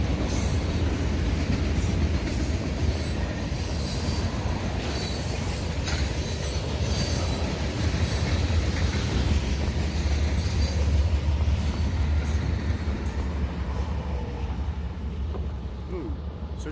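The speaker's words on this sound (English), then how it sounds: "when that train comes, and depending how many cars are on that train" A train passing through downtown Douglasville, Georgia rumbles past steadily with heavy low-frequency roar and faint wheel clatter, loud and continuous, with a voice speaking faintly underneath.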